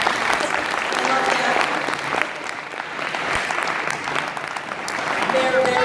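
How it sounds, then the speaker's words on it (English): An audience claps and applauds for the event organizers, a dense, sustained burst of hand claps from a crowd that swells and eases slightly over several seconds, heard close and loud. "So, clap for them, because that was awesome."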